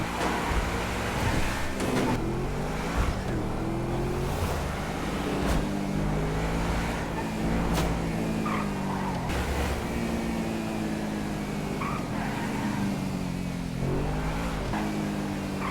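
A car drives in GTA 5 with a continuous engine drone that rises and falls as it shifts and revs. Occasional thumps and bumps sit over a steady road noise, loud and close throughout, with no talking.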